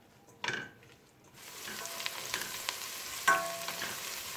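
Olive oil sizzles in a pan as chopped green peppers are added, with a brief loud hiss and scraping stirs, then a steady low frying crackle.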